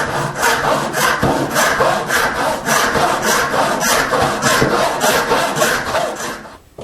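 A hand saw cuts tenon cheeks in wood clamped in a twin screw vise, with steady rhythmic rasping strokes of roughly two per second, close and loud, stopping at the end.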